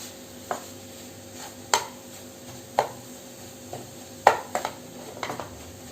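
Egg thoran with scrambled egg and coconut being mixed in a pan, a series of sharp spoon knocks and scrapes against the metal over a quiet background.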